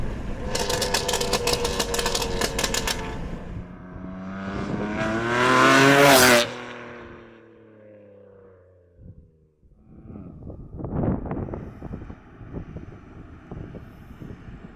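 A BMW M2 Competition tuned to Stage 2 with 630 hp pulls away, its engine rising in a loud accelerating roar that peaks and then fades into quieter cruising and gear-shift bursts.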